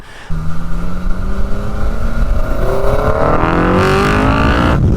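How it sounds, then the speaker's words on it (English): A Honda CR-V RD1 engine revs up into VTEC with a deep, throaty intake roar through a snorkel, its pitch climbing steadily as it accelerates, loud and close. "it's just so much noise coming from that intake. It's very throaty."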